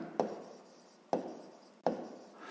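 Pen strokes on paper during a sixth-grade maths exercise, three distinct scratchy bursts roughly a second apart, each starting sharply and trailing off, close and fairly quiet with no voice.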